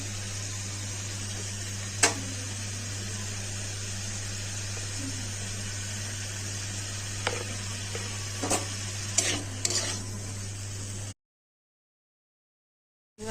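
Potatoes and pointed gourd frying in a pan with salt and turmeric, a steady close sizzle under a constant hum, with a few brief scraping stirs, then silence near the end.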